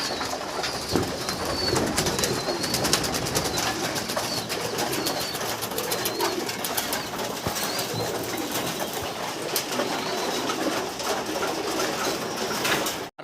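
Many caged pigeons at a pigeon farm coo continuously and near at hand, their layered throaty calls overlapping with occasional wing flutters and rustling throughout.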